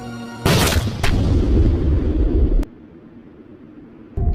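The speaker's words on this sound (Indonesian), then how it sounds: "Tapi tiba-tiba saja Ip Man ditembak oleh satu tepat di dadanya." A gunshot from the 2008 martial arts film Ip Man bursts out as a sharp, loud boom, followed by a brief crack and a sustained rumbling tail that suddenly drops away.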